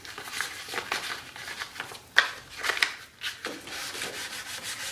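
Hand sanding of primer on a Camaro bumper with a worn sheet of sandpaper makes repeated rough scraping strokes, close and fairly quiet, with a few sharper rasps partway through.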